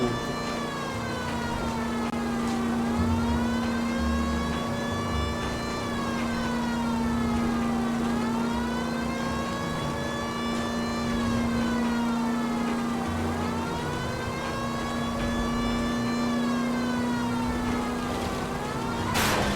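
A wailing car siren in L.A. Noire rises and falls steadily over a constant engine drone, loud and close throughout, with no other sounds breaking in.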